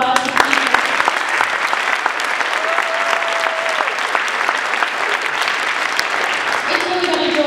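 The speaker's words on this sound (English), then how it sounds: "Can you give her a round of applause?" Audience applause at a sixth grade band and choir concert in a school, loud sustained clapping from a large crowd with a few cheers mixed in, steady for several seconds.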